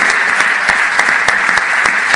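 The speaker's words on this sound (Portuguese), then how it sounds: "Vamos aplaudir Jesus pelo dom e pela vida do pastor Luciano, amém?" Steady, dense clapping from a large church congregation fills the whole stretch, loud and continuous with scattered sharper claps standing out.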